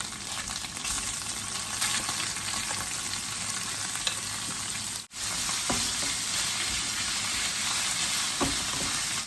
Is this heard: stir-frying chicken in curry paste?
yes